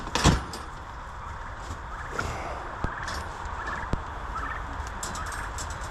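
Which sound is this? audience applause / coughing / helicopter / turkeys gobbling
turkeys gobbling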